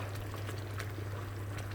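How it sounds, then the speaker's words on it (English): Sticky barbecue sauce for pork ribs bubbles away in a pan, a soft, continuous simmering with small pops and gurgles over a steady low hum, quiet and without voices. "Everything's just boiling away and becoming nice and sticky"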